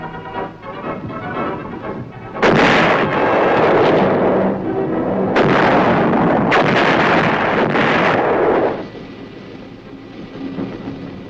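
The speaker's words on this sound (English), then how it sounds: "the 175s reliably deliver shells with pinpoint accuracy on targets over 10 miles away" 175 mm guns at Aberdeen fire shells in heavy, loud booming blasts, with three big roaring bursts that each rumble on for a second or more before fading. No one speaks.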